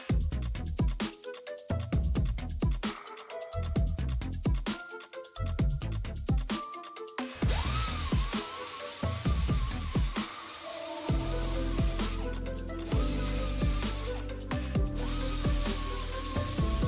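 A power drill runs a 2-inch hole saw in a home garage build on a budget BMW chassis swap: repeated bursts of drilling with brief pauses, then a long steady whining run, close and loud.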